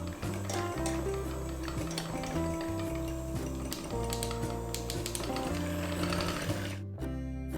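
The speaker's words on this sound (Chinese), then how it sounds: "取来打蛋器，先开低速，防止材料飞溅，然后开高速持续打发" An electric egg beater whirs through yogurt cupcake batter in a bowl, its motor buzzing steadily and shifting pitch as the speed changes, then cutting off near the end.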